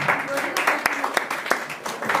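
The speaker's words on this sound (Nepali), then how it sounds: "ताली बजाउँदै गर्नुहोस्।" A church congregation claps during a small Christmas gift presentation to an elderly member, steady scattered applause with sharp individual claps over a murmur of voices.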